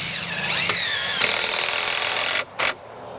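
Screws driven into the corners of a skylight box on a flat roof with a power driver, a loud whining, rattling burst that runs over two seconds, then stops, followed by one brief blip.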